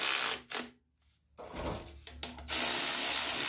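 Bolts being tightened down on the fuel tank of a Yard Machines lawn tractor, heard as short, close bursts of tool noise broken by a near-silent pause, with no speech.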